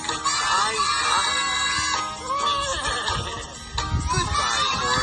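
A horse neighs in a loud, wavering whinny that rises and falls several times over a few seconds, with children's voices and rhythmic background sound mixed in.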